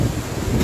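Strong wind from Super Typhoon Rolly (Goni) batters Naga City, a loud, steady broadband roar with gusty swells throughout, heaviest toward the end, no voices.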